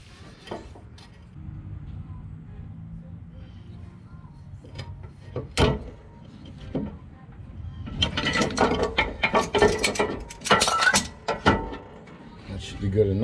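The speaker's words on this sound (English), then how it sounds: "now I'm gonna push this piston back in the hole. And what I'm going to use is a C-clamp" C-clamp being tightened to push a brake caliper piston back into its bore: quiet ratcheting and creaking at first, then a busy stretch of loud metallic clicks, knocks and scraping near the microphone.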